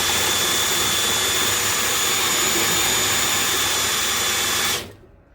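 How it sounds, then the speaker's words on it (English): A power drill runs continuously, turning a drain cleaning cable inside a drain line. It gives a loud, steady whirring drone for several seconds, then winds down and stops. "It's spinning. It's not binding up the drill or anything."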